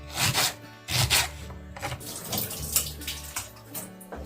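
Tap water runs and splashes in a kitchen sink as peeled onions are washed, coming in uneven bursts and gushes with short breaks and handling noises between them, close by and with no talking.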